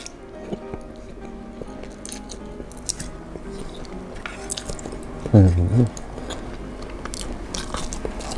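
Spicy Malaysian instant noodles being eaten up close, with wet slurping and squishy chewing sounds and a brief louder burst partway through. Someone talks over much of it.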